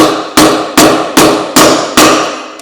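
Five sharp, evenly spaced hammer blows drive a wheel bearing into a dirt bike wheel as it bottoms out, each impact close and loud with a short ringing decay, no talking.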